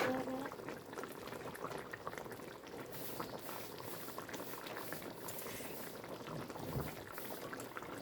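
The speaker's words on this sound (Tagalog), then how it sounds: "Konting lang, konting kulo na lang." Chicken caldereta simmers in a covered pot, a soft continuous bubbling and gurgle of liquid heard faintly and close, with a few small clinks.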